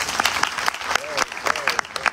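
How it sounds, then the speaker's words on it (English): A short burst of applause, with scattered hand claps from a small audience at a Ganesh Chaturthi religious gathering, fairly close. "Please clap."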